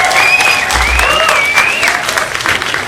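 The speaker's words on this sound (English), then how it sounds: "Give yourself a round of applause." Fans at a Chester Bennington tribute in the Saxe Theater burst into sustained, dense applause with cheering and whistles, loud and steady throughout.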